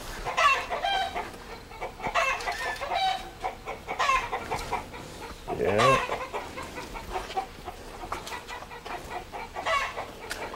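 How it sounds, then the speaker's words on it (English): Chickens cluck and a rooster crows inside a farm chicken house. The hens keep up a busy clucking throughout, one crow stands out midway, and a person briefly speaks. "Gotta show them the inside of the chicken house."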